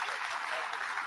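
Audience applause after three men are thanked for their work at a Spanish-language event, a dense steady wash of clapping throughout with no voices standing out.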